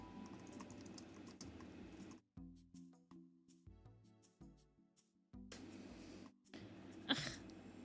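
Clicky typing on a regular, non-mechanical computer keyboard, close and fairly loud, in quick bursts broken by short pauses, with a few isolated key taps in the quieter middle stretch.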